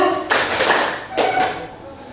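A group claps in two brief bursts, a short flurry of hand claps followed by a second after a pause, with voices around them.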